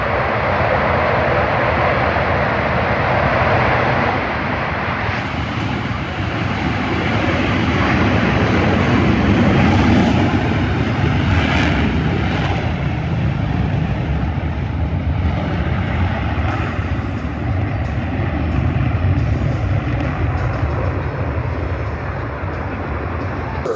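Blue Angels US Navy jets in diamond formation roar past at an air show over an air force base, a loud, steady broadband engine rush that swells and fades gently throughout.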